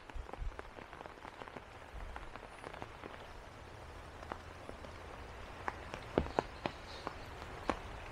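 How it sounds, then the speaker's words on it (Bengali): Monsoon rain falls in a rural village, heard as faint steady patter with scattered distinct drips and taps landing nearby. "এমন বৃষ্টি স্নাত একটা দিন"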